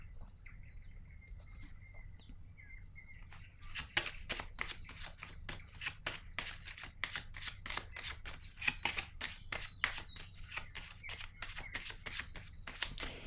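A deck of tarot cards is handled and then riffle-shuffled in a fast, steady run of crisp close-up flutters and snaps, with quieter card handling at the start and no speech.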